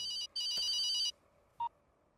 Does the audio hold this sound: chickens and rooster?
no